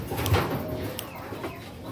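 Hens and small pullets in a backyard coop give soft, close clucks and low murmurs amid faint bird noise, with no talking.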